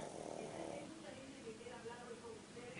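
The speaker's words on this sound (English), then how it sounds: "He is snoring." A pug dog snoring in low, steady rasping breaths close by, continuous under a faint background noise.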